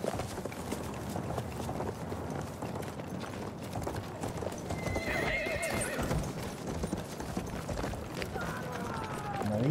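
In Battlefield 1, a horse's hooves pound in a steady gallop under constant battle noise, with one whinny rising midway and another near the end, and a voice speaking briefly now and then.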